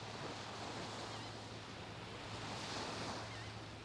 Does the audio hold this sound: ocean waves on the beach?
yes